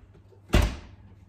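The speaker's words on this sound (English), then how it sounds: "our oven door slides in" A kitchen oven door slides shut in one quick, solid thud with a short rattling tail, close by against a quiet room.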